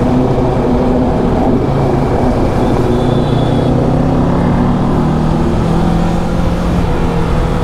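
Kawasaki Ninja 650 motorcycle, 2023 model, engine running loud and close with a steady rumbling drone and a slowly rising tone as the throttle is worked, no talk.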